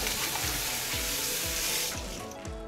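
Tap water gushes steadily into a sink in an advanced girls' school washroom, a loud, close, continuous rushing stream that eases slightly toward the end, with no voices.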